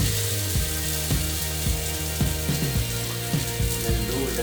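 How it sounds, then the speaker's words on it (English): Battered bread slices laid on a hot skillet give a steady sizzling fry with repeated soft clicks and taps of utensils against the pan, close and continuous. "dip one set like this inside the liquid and place it on the skillet"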